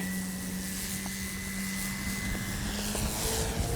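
A Hangar 9 Valiant 20cc RC airplane climbs out slowly on takeoff, its engine a steady, fairly distant drone holding a constant pitch throughout.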